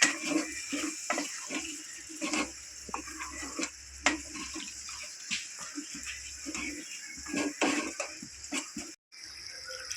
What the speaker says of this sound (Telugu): ఇప్పుడైతే కొంచెం వాటర్ పోస్తున్నాము